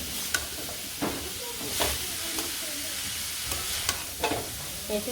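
Mixed vegetables for Bengali shukto fry in a pan, with a soft continuous sizzle and hiss marked by occasional clinks and stirring scrapes. The sound is moderately quiet, and no one talks.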